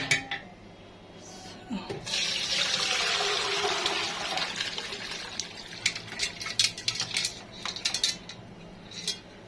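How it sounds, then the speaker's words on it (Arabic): Tamarind juice is poured through a kitchen strainer, giving a close, continuous splashing pour with clinks of metal and utensils against dishes, then scattered sharp taps and knocks as the pouring tapers off. "وهنا برضه هصفي التمر الهندي بتاعي المصفى بتاعتي اهي"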